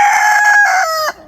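A rooster crows loudly and close in a room of caged laying hens, one drawn-out call that cuts off sharply at the end.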